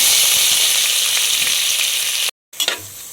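Onions sizzling and frying in hot ghee with cinnamon, cloves and cardamom in a pressure cooker, a loud steady crackle that cuts out briefly before resuming with faint stirring.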